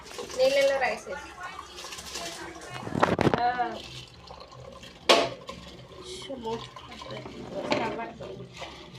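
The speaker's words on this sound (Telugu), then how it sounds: "నీళ్ళల్లో రైస్ వేస్తాం." Soaked rice poured into a pot of water for prawn biryani, with splashing and pouring sounds and a clink of utensils, close and moderately loud amid background kitchen noise.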